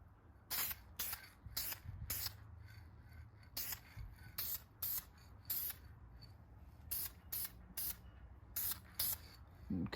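VHT caliper paint is sprayed onto Porsche brake calipers in short, sharp aerosol hisses, repeated bursts of about half a second with quiet gaps, close and clear.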